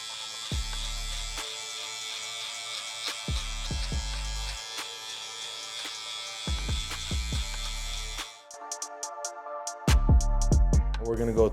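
A barber's electric hair trimmer buzzes steadily while cutting a fade haircut, running throughout with a mains-like hum, overlaid by intermittent low thumps and handling noises, ending with a louder close burst.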